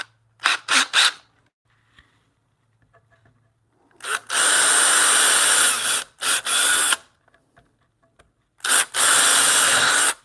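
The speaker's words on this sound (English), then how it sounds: "I got this little countersink bit. I think I'm gonna use this. So that's gonna go in there and pulverize." Power drill with a countersink bit boring into a wooden bunk bed rail near a knot, heard as four loud, close whirring bursts of a second or two each, separated by quiet pauses.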